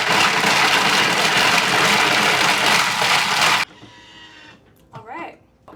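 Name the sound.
blender mixing protein shake with ice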